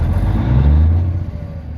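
A car engine revs after a fuel pump repair, a short low rumbling swell that rises and eases back, close and fairly loud with no talk.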